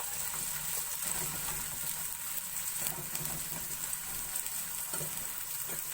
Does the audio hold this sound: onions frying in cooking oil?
yes